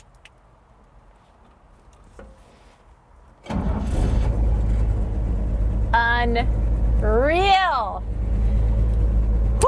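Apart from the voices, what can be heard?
1953 Chevy 3100 truck engine running after 12-volt conversion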